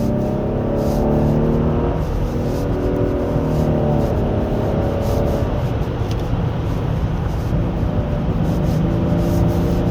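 A 2024 Genesis G80 3.5 turbo AWD driving along a winding road: a smooth, steady engine hum heard from the cabin, with rising and falling revs through the bends under constant road and wind noise.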